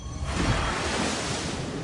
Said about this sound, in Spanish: Un muro rugiente de agua vuelve para llenar el vacío.